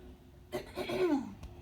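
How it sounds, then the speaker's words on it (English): A single throat clearing, close and moderately loud, a short harsh rasp with a brief catch at the end, in an otherwise quiet room. "I had to clear my throat"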